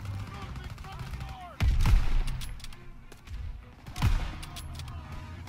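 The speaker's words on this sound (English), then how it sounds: "Everyone open fire!" Gunfire in the Call of Duty WW2 video game, two heavy booming shots over a rumbling battle backdrop with crackling bursts, mixed with shouted voices.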